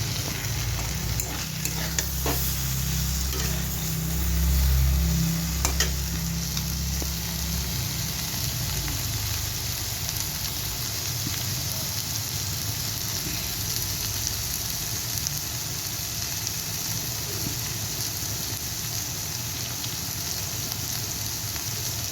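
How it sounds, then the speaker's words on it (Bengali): Spices sizzle steadily in a hot pan as the masala for a cauliflower, potato and lentil-fritter curry is sautéed, with scraping stir strokes at first and then an even, continuous frying hiss. "এখন কষাচ্ছি মশলাটাকে।"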